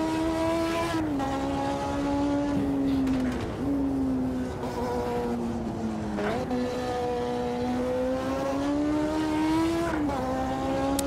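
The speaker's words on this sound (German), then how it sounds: "Dieses Auto hier in Spielberg mit dem Sound." A race car engine in the Automobilista 2 racing game at Spielberg holds a loud, steady high-pitched drone, rising through gears with several quick upshifts and brief dips. No one talks over it.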